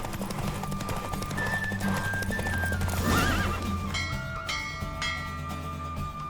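Galloping hooves drum steadily in The Witcher 3: Wild Hunt horse race while a horse lets out a loud whinny midway, backed by a thrumming background of other game sounds.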